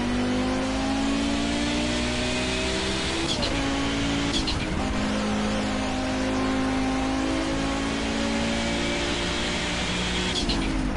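A car in the racing game Project Cars accelerates hard, its engine note rising steadily through the gears with brief dips at shifts, loud and continuous for the whole stretch.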